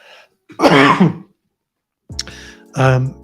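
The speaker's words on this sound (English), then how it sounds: "I need to clear my throat." Two loud, close throat clearings separated by a short silence, each a rough, gravelly rasp.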